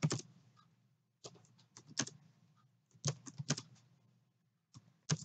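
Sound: typing data in on calculator keys

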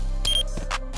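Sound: planted bomb beeping in video game CrossFire

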